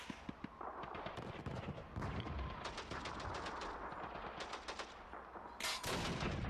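Call of Duty 2 street battle in a city hall level, with dense bursts of rifle and machine-gun fire cracking over a heavy background of distant shooting and explosions, loud and continuous throughout.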